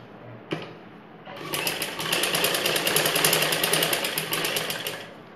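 A sewing machine stitches a dart on a ladies' blouse, a brief start then a steady, rapid, rhythmic mechanical clatter running loud and close for several seconds.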